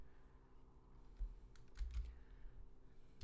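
Typing on a computer keyboard: a few soft, close key taps cluster in the middle over quiet room noise, with no one talking.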